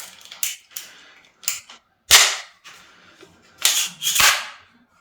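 Milwaukee 18-gauge nail gun driving nails into door casing and skirting, a few sharp close snaps interspersed with softer clicks from misfires, spaced irregularly with silence between shots.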